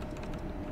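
Keyboard typing during an online Code Vein session, a short steady run of soft clustered keystrokes lasting under a second, close and alone with no talk.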